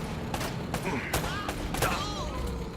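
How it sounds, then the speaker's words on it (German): Gunfire from the video game Uncharted pops in a few sharp reports over a busy game soundscape, with someone talking over it. "2 Schüsse und die sind hinüber"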